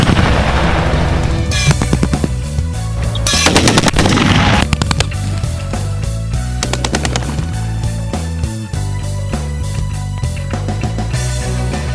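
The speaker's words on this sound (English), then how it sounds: "Now we're testing an X-0HW Explosive Blast Simulator for simulated air support here on Eglin Air Force Base" X-0HW explosive blast simulator staging a simulated C130 airstrike on Eglin Air Force Base: loud, continuous bursts of rapid gunfire-like cracks and booming blasts, with dense volleys throughout and heavier explosive surges near the start and middle.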